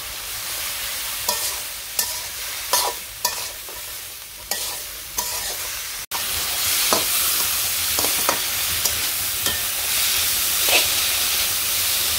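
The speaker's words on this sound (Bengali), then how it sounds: "আর আজকে সবজিটা রান্না করতেছি নানান রকমের সবজি দিয়ে" Mixed vegetables with salt, chili powder and turmeric cook in a pot in a village kitchen, a continuous close sizzle and hiss broken by repeated scraping stirs of a spoon against the pot.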